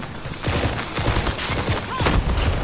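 Rapid gunfire in the Call of Duty Mobile shooter game, dense overlapping bursts and shots rattling almost continuously at close range.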